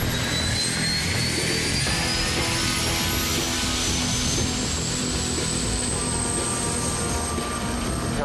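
A loud, constant roar of a rescue helicopter engine with a rising whine, steady throughout and close by, no voices.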